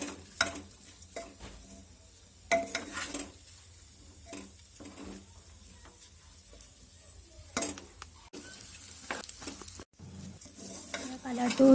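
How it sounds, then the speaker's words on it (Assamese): Rice being fried and stirred in a pan for vegetable pulao, with intermittent scraping strokes and soft sizzling at close range, quiet between stirs and growing busier toward the end. "এইখিনি ভাজি থাকিব লাগিব অলপ টাইম, যেতিয়ালৈকে চাউলৰ কালাৰটো সলনি নহয়।"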